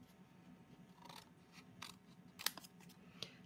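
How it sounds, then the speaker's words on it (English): Scissors snip through paper several times, cutting out a stamped sentiment, with soft, close, irregular cuts over a quiet room. "I'm just going to cut it out first"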